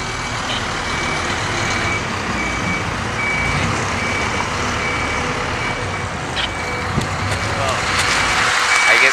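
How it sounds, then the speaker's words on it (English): A bus reversing on a busy street sends out faint, regular reversing beeps under steady traffic rumble and crowd noise, with people talking nearby. "The bus is now reversing."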